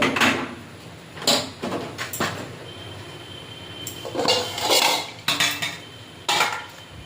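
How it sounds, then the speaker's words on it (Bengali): A metal wok set down onto a stove in a home kitchen, giving a few sharp clanks and scraping knocks in separate bursts, close and fairly loud, with no talking. "তাহলে কড়াইটা বসিয়ে দেবো"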